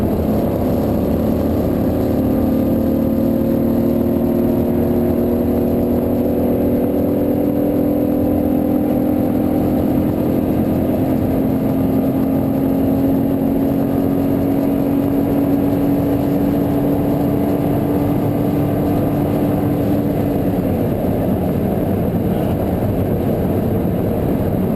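A Lamborghini Diablo accelerating at speed, its engine a steady, loud, continuous roar with rising whining tones that climb slowly, then fade into a constant drone of road and wind noise, heard from inside the car with no talking.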